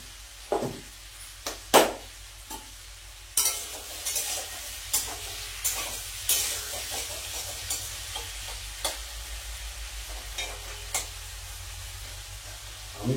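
Potatoes seasoned with turmeric and salt fry in a pan. A low, steady sizzle is broken by sharp spoon scrapes and clinks as they are stirred.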